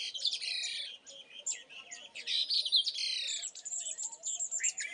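Birds chirp and twitter back and forth in quick, bright calls in a hill village in March, fairly close and continuous, with no other sounds around them.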